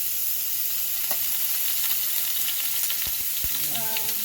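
Chicken wings sizzle and fry steadily in a hot pan while browning for spicy wings, a continuous close crackling hiss with a few brief clinks of utensils near the end.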